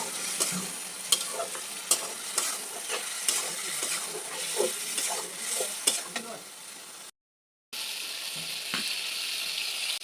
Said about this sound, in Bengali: এখন দিচ্ছি পরিষ্কার করা ছোট বেলে মাছগুলো দিয়ে ভালোভাবে মিশিয়ে নেব